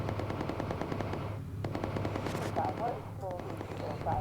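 Rapid machine gun fire rattles steadily in the World War II bomber game Bomber Crew, a dense continuous burst with game effects layered over it; someone talks over the gunfire.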